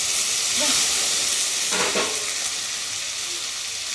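Tomatoes frying in hot oil in an iron pan over a wood-fired stove, giving a steady close sizzle with a brief louder burst of spattering midway.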